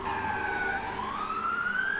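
An ambulance siren wails steadily and loudly for the whole stretch, its pitch sliding up and down as it draws near, with the low rumble of the vehicle beneath and no voices.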